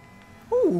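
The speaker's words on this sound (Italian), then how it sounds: "Ma il drift lo fa bene, cioè abbastanza liscio, lineare" A Maibatsu Penumbra drifts in GTA 5 Online, its tires letting out a sudden loud, sliding skid squeal that swells over steady engine noise in the final half second.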